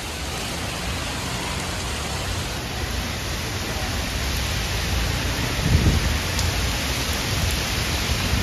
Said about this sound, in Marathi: खूप मोठा पाऊस आला बघा